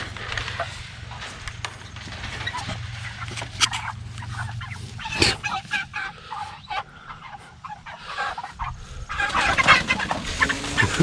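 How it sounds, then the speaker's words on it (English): Six-week-old meat chickens with fluffy feathers clucking and calling nearby, irregular bursts of fowl vocalizations over a low background hum, with handling noises and brief rustles in between. "I just want to show a chicken really quick."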